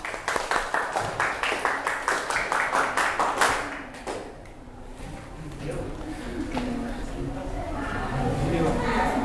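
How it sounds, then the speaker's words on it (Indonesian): A school classroom applauds a student group with rhythmic, unison clapping for about three and a half seconds, then the claps die away as the teacher and students talk. "Kasih tepuk tangan untuk kelompok 2."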